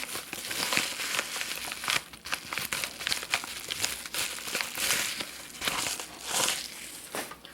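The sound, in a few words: tearing open a paper mailer package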